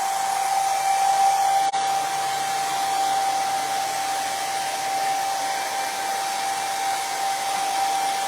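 A hair dryer blows steadily on a damp rope pumpkin craft, a close, continuous whirring hum with a faint high whine, no talking.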